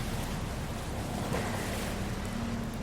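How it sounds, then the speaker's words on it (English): Waves crash unevenly on the Estonian coastline beneath heavy cloud, a soft, constant wash of surf and wind with no distinct breaks, heard from a distance. "The uneven crash of waves forms a mournful chorus."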